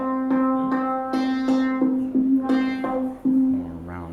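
Synthesizer notes shaped by filter resonance for a rounder tone, a run of about ten repeated notes with a few pitch shifts, close and moderately loud, ending on a lower sustained note, with no talking.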